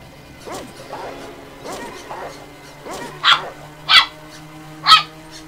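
Several pet dogs playing together in a house bark in the background, giving about half a dozen sharp barks roughly a second apart, the last few louder and closer, over a low continuous hum.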